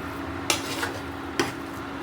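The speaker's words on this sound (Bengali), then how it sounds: "বাটাটা পোস্ত বাটাটা দেওয়ার পরে পরে একটু বেশিক্ষণ ধরে নাড়তে হবে" Beetroot cooking with poppy seed paste in a pan, stirred with a utensil: two sharp scrapes stand out over a low steady hiss, close and fairly quiet, with no voices.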